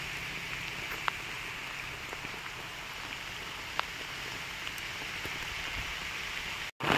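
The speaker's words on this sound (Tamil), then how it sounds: "மழை பெய்யுது" Steady rain falls outdoors during stove-top cooking, a dense hiss of drops with a few sharper nearby hits, continuous until a sudden brief cut near the end.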